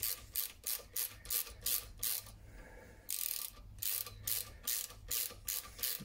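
Race Tech emulator spring preload adjuster being wound in, giving bursts of quick, close ratchet clicks in rhythmic runs with a brief pause midway, fairly quiet.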